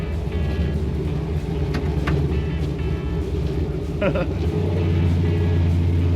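A supercharged 1955 Chevy pickup's engine rumbles steadily from inside the cab during a ride, a deep continuous drone that swells a little toward the end, with faint voices in the background.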